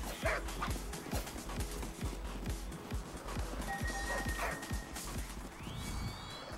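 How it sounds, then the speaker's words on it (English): A pack of dogs in the video game Tokyo Jungle, barking and yipping in quick repeated bursts over a steady game soundtrack with rhythmic thumps, fairly close and continuous. "pack of dogs."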